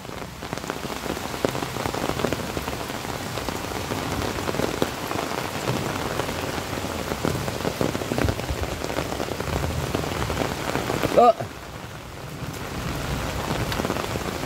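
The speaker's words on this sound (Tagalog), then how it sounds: "Malakas ang ulan." Heavy rain pours steadily onto surfaces nearby by a river, a dense continuous roar that briefly dips before resuming.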